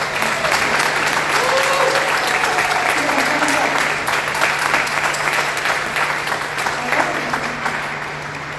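At an annual association awards ceremony, an audience gives a long round of applause for the new executive board, steady dense clapping with a few voices and cheers, tapering off at the close.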